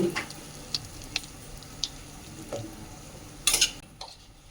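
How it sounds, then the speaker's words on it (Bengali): Whole spices are stirred in hot oil: cinnamon, cloves and black peppercorns. Faint sizzling runs underneath a few quiet, scattered clicks and scrapes of a spoon against the pan, with a brief louder clatter near the end. "এখন এই যে একটু নাড়াচাড়া করে নেব"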